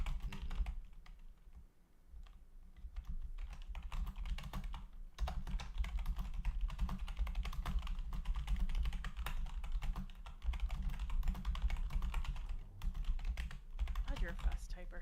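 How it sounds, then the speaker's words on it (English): Rapid, continuous clatter of keys on a computer keyboard, close and steady over a low hum, while people talk faintly in the background. "you're a fast typer"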